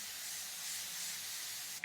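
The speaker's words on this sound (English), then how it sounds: "you can get this and spray" A continuous soft hiss of makeup setting spray misting for nearly two seconds, ending with a short click.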